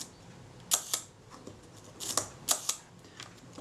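Several mechanical shutter clicks from a Kodak Retina camera at 1/10 second, each a pair of sharp snaps spaced apart like a slow exposure, fairly close and alone.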